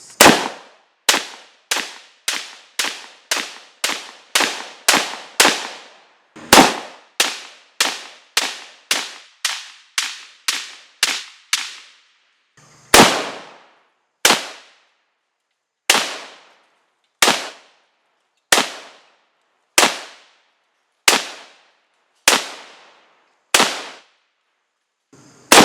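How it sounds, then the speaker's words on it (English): A Ruger Mini 14 rifle fired at an outdoor range, a long string of sharp, loud cracks, rapid and evenly spaced at first, then slower single shots with brief echoing tails between them, no voices. "I'm going to take the Mini down to the range and"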